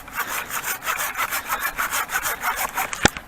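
A Felco 630 pruning saw cuts through wood in quick, steady back-and-forth strokes, close and rasping, ending with a sharp knock.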